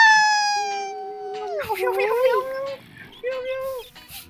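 A kitten's meow in Minecraft sounds twice, a long drawn-out cry and then a shorter one, while a person speaks excitedly over it in a game playthrough.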